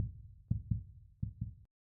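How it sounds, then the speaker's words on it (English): A short heartbeat sound effect used for a video editor transition: two paired low thumps, a lub-dub beat repeated twice, soft and clean with no other sound. "so this one now should give a little heartbeat."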